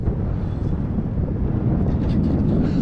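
Steady wind buffets the microphone while an RC Super Decathlon plane flies, a constant low rumbling roar with no pauses.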